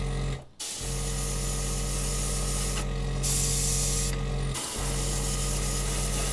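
Steady hiss of an airbrush spraying paint, close and continuous, with a brief break near the start and a couple of short dips in the middle.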